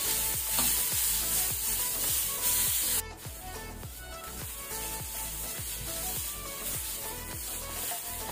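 Onions frying to golden brown over a medium flame, a dense steady sizzle under rhythmic scraping strokes of a spatula repeating roughly every half second, close; the hiss drops slightly partway through.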